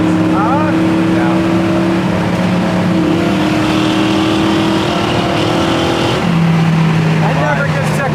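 A 1966 Chevelle SS muscle car with a carbureted engine drones loudly while driving, with a steady throaty hum that holds through most of the clip and then drops in pitch near the end.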